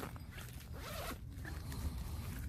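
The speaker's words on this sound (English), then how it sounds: "Let me find a zipper and zip it up." Zipper drawn closed along the entrance of an Ozark Trail four-person dome tent, a quiet close ripping run lasting a couple of seconds with no speech.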